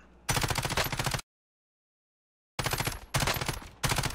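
Automatic gunfire in the Call of Duty Warzone video game, loud rapid bursts that stop for over a second of silence, then return as several short, dense volleys.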